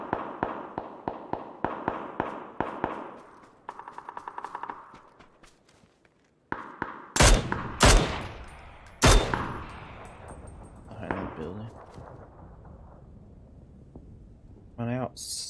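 Battle royale gunfire: a rapid run of sharp, evenly spaced shots, a short pause, then a few heavy, loud blasts with ringing tails and scattered lighter shots.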